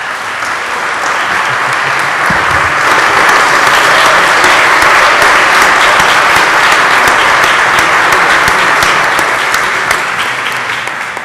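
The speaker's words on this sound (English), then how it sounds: "Thank you for that round of applause" A state senate chamber fills with steady, dense applause from many hands, loud and close, holding evenly for about eleven seconds with no talk over it.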